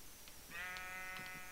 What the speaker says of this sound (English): Got lots of sheep now.